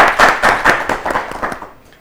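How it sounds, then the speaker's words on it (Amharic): An audience of students' classmates claps at an Ethiopian children's TV show in a classroom setting, a burst of several quick, fairly loud hand claps that thins out and fades over about two seconds. "አጨብጭቡላቸው"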